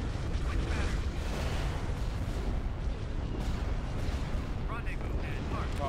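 Heavy starship cannon fire in the Star Wars: Empire at War space battle, a dense, continuous rumbling barrage of booming blasts against a dreadnought, loud throughout with a few brighter laser zips near the end.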